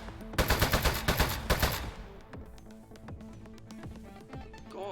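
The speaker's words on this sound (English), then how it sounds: "It is okay to shoot these appliances." Shooting appliances in the video game Desk Job brings a loud rapid burst of synthetic gunfire lasting over a second, followed by a scatter of lighter clinks and clatter as objects get hit.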